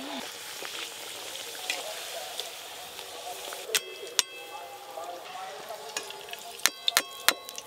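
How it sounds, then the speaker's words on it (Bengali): Nanpuri fries in hot oil with a soft, steady sizzle, broken by a few sharp metallic clinks of a utensil against the pan near the end. "এবার নানপুরিগুলো ভেজে নেব।"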